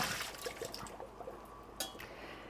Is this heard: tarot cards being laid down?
no